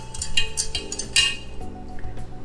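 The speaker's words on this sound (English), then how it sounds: "So I'm gonna go ahead and give this one last stir." A spoon stirring a hot-process lemongrass soap mixture in a pot, with light clinks and scrapes of metal against the pot under a low background hum.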